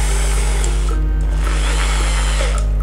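Steady whirring of a Bosch 3-function 220V electric drill on standard drilling mode, the motor held at a constant speed close up, with slight shifts in pitch toward the end and no talking.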